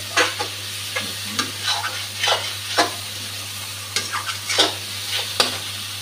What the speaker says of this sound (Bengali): মশলাটা খুব ভালোভাবে কষানো হয়ে গেছে।